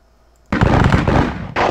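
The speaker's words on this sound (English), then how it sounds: "Put some long-range rifle fire." Long-range rifle volleys in an American Civil War strategy game at the Battle of Perryville: after a quiet moment, a loud crackling burst of massed musketry erupts, then a second volley cracks out shortly after.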